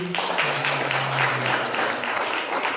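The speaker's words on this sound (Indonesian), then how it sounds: "Berikan tepuk tangan." Applause from wedding guests, a dense steady wash of clapping that fills the whole stretch at close, even loudness, with a faint low voice or tone underneath early on.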